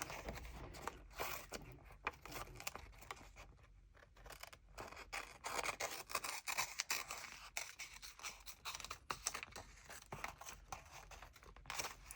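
Scissors trimming washi tape on journal pages, faint close snips and papery crinkles scattered irregularly through a quiet desk scene, with no talk.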